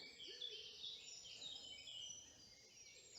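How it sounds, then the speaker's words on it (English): Faint, high birdsong trills and chirps, including a wood pigeon, layered over each other in a quiet bluebell woodland in Ireland, distant and continuous. "Listen, can you hear the birds?"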